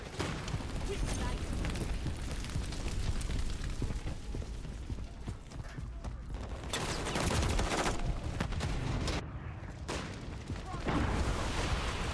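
Frag grenade explosions and gunfire in Modern Warfare III multiplayer, dense crackling shots with heavier booming bursts partway through, loud and continuous, with voices calling out over the combat.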